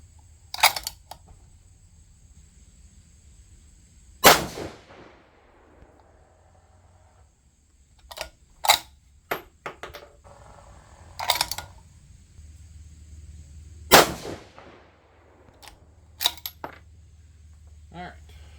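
A 6mm GT rifle firing Berger 105 Hybrid Target bullets: three loud, sharp shots spread over about eighteen seconds, with softer mechanical clicks and handling noises between them and a low steady hum underneath.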